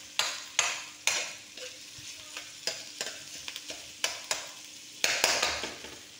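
Chicken frying in a pan with garlic and a whole large onion, stirred in repeated sharp scraping strokes over a steady sizzle, close and fairly loud, with no voices.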